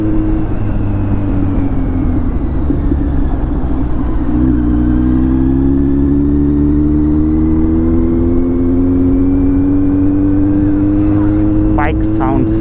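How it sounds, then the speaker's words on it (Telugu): A motorbike engine runs steadily and loud and close, its pitch climbing gradually as it revs up, with a low rumble throughout and faint voices in the background. "Bike sound sweet."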